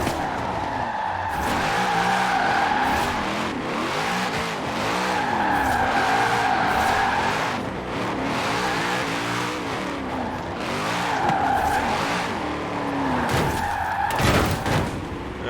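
Forza Horizon 4 on PC with a Logitech G29 wheel: a game car revs hard and drifts, engine note rising and falling in waves while tires squeal repeatedly, loud and continuous with no talk.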